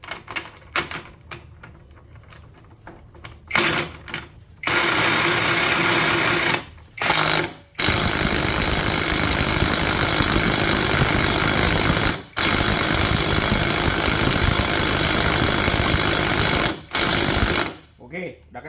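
An NRT Pro TX30DC cordless impact wrench tightens a bolt in long, loud hammering bursts separated by brief pauses, after some soft handling clicks at the start.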